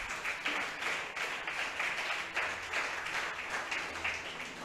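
A church congregation applauds in steady, moderately loud clapping that carries on for several seconds without talk.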